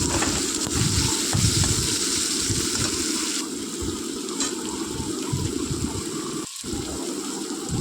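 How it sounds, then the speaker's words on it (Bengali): Chopped onions fry in a pan for a jackfruit and prawn curry, giving a steady, loud sizzle and crackle that continues without pause. Near the end a brief, sharp clink or gap interrupts it. "পেঁয়াজটাকে আমি ভালো করে ভাজতে থাকবো, একটু লালচে করে ভাজা হবে"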